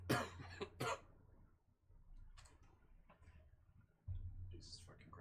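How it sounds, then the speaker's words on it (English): A few rough coughs near the start, with a couple of quieter throat sounds later in a mostly quiet room. "I hope this isn't COVID cough."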